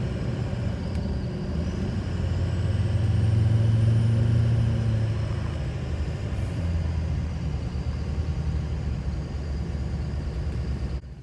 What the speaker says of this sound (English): So here we are driving down Main Street